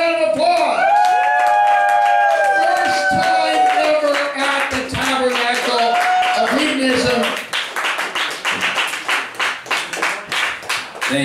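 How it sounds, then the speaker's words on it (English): Live music with a sustained, sliding tone gives way to a burst of audience clapping and cheering for a comedian at a comedy show in Gainesville, loud and close, rhythmic claps dominating the final seconds. "Give him a round of applause"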